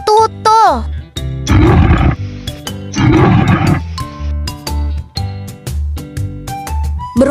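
Two loud, rough roars from a leopard stand out among bright jingling music notes, with a brief whinny-like call at the start; each roar lasts under a second and is heard close and clear.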